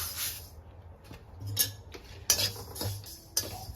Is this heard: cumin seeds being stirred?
yes